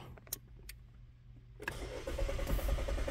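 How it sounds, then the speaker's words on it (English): A Chevy Malibu engine with a crank-but-no-start fault cranks with a few starter clicks, then catches and settles into a loud, steady idle nearby. "I'm trying to start the vehicle"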